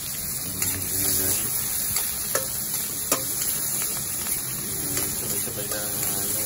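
Garlic, onion and tomato sauté in a pan with a steady, loud sizzle throughout, broken by scattered sharp crackles and utensil scrapes, while a person talks over it.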